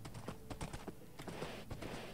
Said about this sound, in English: Oh, there are many horses here, but where are the cows?